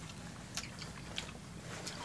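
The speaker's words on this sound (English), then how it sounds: "I'm chewing." Quiet, close chewing of a mouthful of pizza, with a few soft crunchy bites standing out in a near-silent room and no talking.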